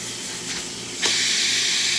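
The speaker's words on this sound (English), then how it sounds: "Steam of this machine working excellent, as you can see." Steam wand on a Breville espresso machine, newly repaired with a replacement three-way solenoid valve: a faint hiss swells into a loud, steady rush of steam that continues close up to the end.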